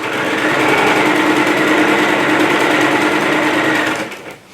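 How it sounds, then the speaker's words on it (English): A sewing machine stitches fabric at a fast, steady pace, its motor buzzing continuously and close for about four seconds before stopping abruptly. "I'm not sewing over these pins. I might be sewing a little fast."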